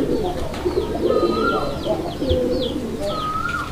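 Pet pigeons at a pigeon sale cooing repeatedly and close by, with soft throaty coos overlapping a few higher chirps against a steady background hum.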